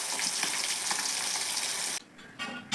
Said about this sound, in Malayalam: ഇതുപോലെ എല്ലാം ഒന്ന് ഫ്രൈ ആക്കി എടുക്കാം.